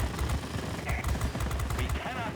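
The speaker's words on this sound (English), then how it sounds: "those machine guns, they will get the job done at close range" Rapid machine gun fire in the X3M video game, a dense continuous rattle of close, loud bursts with engine noise underneath.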